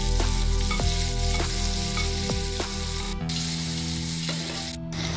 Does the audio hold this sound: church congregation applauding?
no